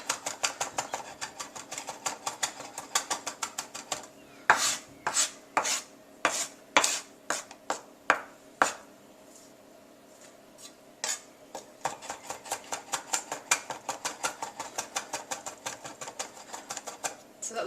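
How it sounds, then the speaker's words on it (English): A knife chops a smoky eggplant paste with salt on a cutting board. Sharp, rapid knocks come in quick bursts, pause briefly, then return as a long run of fast, even chopping, close and clear. "Just give it a final"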